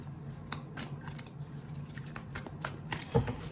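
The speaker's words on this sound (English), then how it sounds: "I'm gonna shuffle." Quick papery riffling and soft snaps of tarot cards in a few bursts, ending with a louder flutter near the end, alone with faint background hum.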